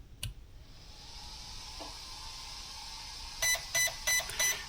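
A Hobbywing XR14 ESC for a drift RC car powers up for calibration, giving a short click and then a series of four sharp electronic beeps in quick even succession, close and clear against a quiet background.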